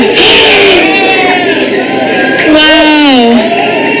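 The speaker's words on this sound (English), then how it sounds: "You can hear people screaming in the background" A crowd watching the 2023 annular solar eclipse cheers and screams, loud overlapping whoops and shouts with rising and falling voices close to the microphone.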